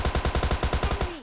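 A long rapid burst of automatic gunfire in the PUBG battle royale game, about a dozen evenly spaced loud shots in quick succession ending with a short ringing tail.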